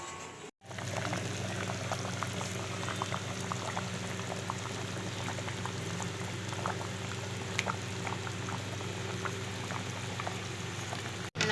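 Crab gravy boils in a covered pan on a high flame. Dense, steady bubbling and popping continues at a moderate level for about eleven seconds, with no talking.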